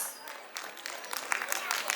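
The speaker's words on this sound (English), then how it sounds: "Let's welcome her with a big round of applause." Audience applause welcoming a speaker at a school annual day celebration: a crowd claps in a steady, dense patter that swells slightly after the first half second and carries on to the end.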